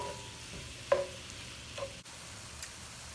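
Ground beef seasoned with salt, pepper, thyme and garlic powder browns in a pan, a quiet sizzle broken by a couple of scraping stir clicks.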